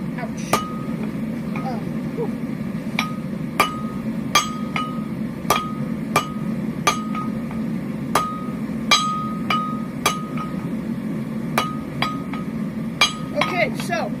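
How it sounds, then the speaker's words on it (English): Blacksmith hammering hot metal on an anvil to taper it to a four-sided point, a steady run of sharp ringing strikes at roughly one per second over a constant low hum. "if you hit it hard enough, long enough, it will taper down to a sharp point"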